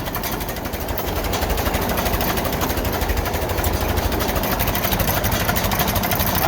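A Farmall 450 LP tractor engine idles low close by, a continuous rapid chugging throb with no voices.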